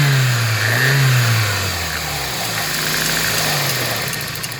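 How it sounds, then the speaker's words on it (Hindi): A Toyota Corolla 16-valve EFI petrol engine runs just after starting, close and loud, its revs sliding down from a raised pitch into a steady idle, with no talk. "अब ये इंजन स्टार्ट है,"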